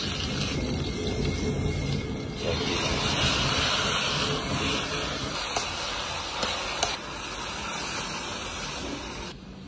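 Onions hit hot cooking oil and set off a steady, loud sizzle and hiss that keeps going with slight surges throughout, with no voices over it.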